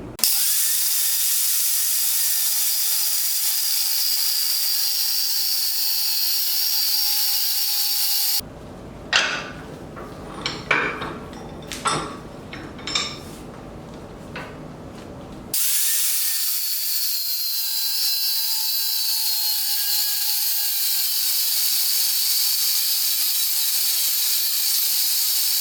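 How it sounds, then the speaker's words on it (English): Power tool cutting a taper off each side of a blacksmith hammer peen, a rough grinding-saw bite of metal in a steady burst of several seconds with uneven surges, set between stretches of a constant background whine. "And we're ready to cut."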